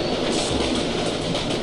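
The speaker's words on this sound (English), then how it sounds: "It's a train." A train passes in a video game with a steady, loud rumbling roar and faint rhythmic wheel clatter, heard alone with no talk.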